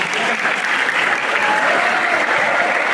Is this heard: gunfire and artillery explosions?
no